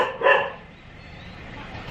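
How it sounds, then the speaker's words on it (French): A neighbour's dog gives one short, sharp bark close by, followed by a quiet background hush. "Et ils ont 2 chiens les voisins."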